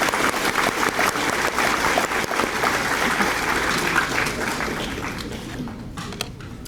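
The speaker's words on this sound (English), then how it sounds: "Let's have another round of applause for these students." Audience applause for students at a high school senior awards ceremony, a steady dense clapping from a crowd that holds strong, then gradually thins and softens toward the end.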